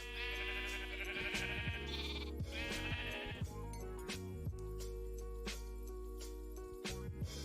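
Sheep bleat in Minecraft, several wavering game-sound bleats repeating over about seven seconds, faint and clean, with small clinking tones between them and no talk.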